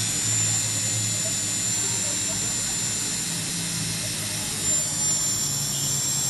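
An electric facial hair remover with a lit head runs in a steady, close-up whirring drone, holding an even level without pause for the whole stretch.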